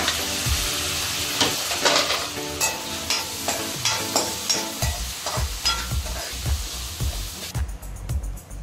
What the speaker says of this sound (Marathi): कांदा असा नरम झाल्यावर त्यात मग हे 2 छोटे टोमॅटो टाकायचे आहेत.